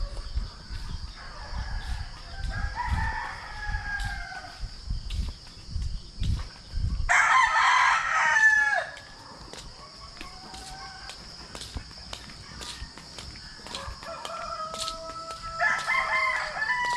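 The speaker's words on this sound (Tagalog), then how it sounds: "Dami pang manok sa taas." Roosters crowing on a farm in the early morning, with several drawn-out calls at moderate distance, one loud nearby crow standing out among them, and footsteps and scuffling low beneath.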